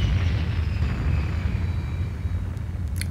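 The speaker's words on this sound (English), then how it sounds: "That's a loud engine." A loud, deep engine roar from a spacecraft in the Space Quest VI video game, a steady low rumble that fills the whole stretch, with a few faint clicks near the end.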